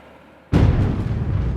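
A sudden loud thunder crack from a lightning storm bursts in after a quiet moment, then rolls on as a heavy sustained rumble.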